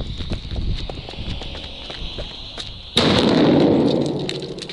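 A powerful firecracker blows up electronics outdoors: light scattered crackles and taps lead to one sudden, loud, close blast, followed by a sustained noisy rush as debris falls and the sound slowly fades.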